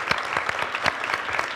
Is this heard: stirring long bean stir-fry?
no